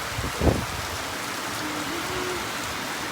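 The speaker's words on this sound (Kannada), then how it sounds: "ಸಡನ್ನಾಗಿ ಮಳೆ ಬಂದುಬಿಡ್ತು" Sudden monsoon rain in Goa falls steadily on surfaces as a dense, even hiss of drops, with a brief thump near the start and no voices.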